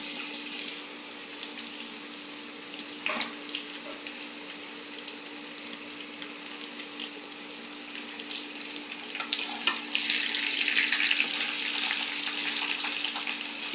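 Kohi fish frying in a pan with onions browned to a reddish-brown colour, a steady close sizzle with light stirring clinks and a brief knock early on, rising to a louder crackle near the end.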